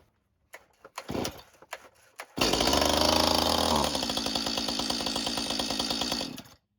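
A STIHL chainsaw (MS 251c or MS 211c) is started at half choke: a few short pull-cord rasps, then the engine catches and roars loudly close by before settling into a steady, buzzing run.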